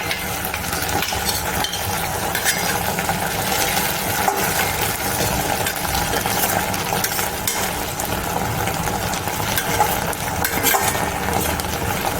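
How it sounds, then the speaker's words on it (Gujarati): Starch-coated corn kernels tumble into a hot pan for corn chilli, giving a steady, loud sizzle and frying hiss with scraping stir noises throughout, close up and with no voices. "મકાઈના દાણા છે જે આપણે સ્ટાર્ચવાળા રાખેલા હતા એ પણ આપણે નાખી દઈશું"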